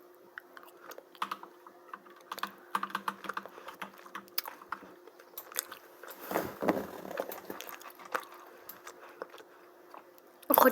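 Gum chewed close to the mic, soft wet clicks and smacks mixed with steady computer keyboard typing and clicking during PC gameplay, with a brief louder burst at the end.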